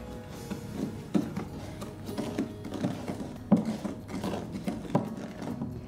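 Egg and vanilla cupcake batter being mixed in a bowl, light irregular clicks and taps of a utensil against the bowl over soft mechanical scraping, fairly quiet and close.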